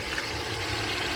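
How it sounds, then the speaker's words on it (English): Water boiling with oil and butter in a covered pot while popcorn cooks, a steady close hiss and low rumbling bubble that runs unbroken through the whole moment with no talk. "That is the sound of the water, okay? It's boiling"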